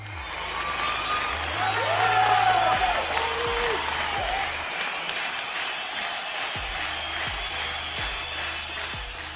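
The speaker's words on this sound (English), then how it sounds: "round of applause for Alisha" A studio audience at a radio show breaks into sustained applause and cheering as a guest, Alisha, is brought into the room, with a steady thumping beat underneath and some voices mixed in.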